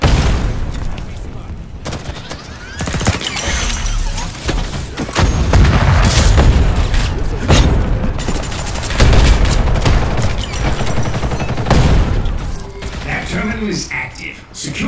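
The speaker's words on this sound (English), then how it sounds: "The enemy is using an arm launcher." Enemy arm launcher firing in Ghost in the Shell SAC amid combat in the TC District Ruins, a loud chaotic run of blasts, booms and gunfire bursts with crashing impacts, mixed with speech.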